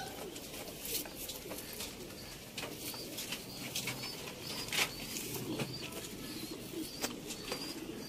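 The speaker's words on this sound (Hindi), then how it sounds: "लो दोस्तों 4 कबूतर इस खाने दे विच भरावां दे सामने आ गए ने।" Rampuri and Ali wale pigeons in a coop, coos and wingbeats mixed with sharp chirps and flapping bursts, fairly close and continuous amid a busy background hum.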